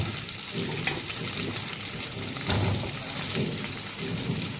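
Potato pieces sizzle and crackle in hot oil already used for frying pointed gourd, a dense steady frying hiss with occasional louder pops, continuous throughout.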